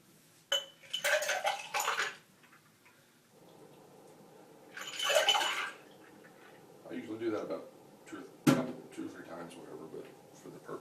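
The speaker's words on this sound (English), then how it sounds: "I'm just mixing it back and forth between 2 glasses." A Bloody Mary poured back and forth between two glasses, giving soft splashes and glassy clinks in several bursts, with a person talking between the pours.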